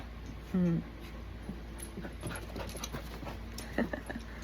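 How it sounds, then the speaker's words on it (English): Several dogs at play indoors, panting, whimpering and giving short yips close by, with a person talking now and then over the quiet activity. "I got some doggies here playing."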